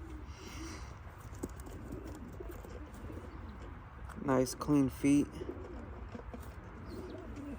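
Racing pigeons in a loft give a short burst of soft, rolling coos, three pulses close by, over low background noise while someone speaks quietly nearby.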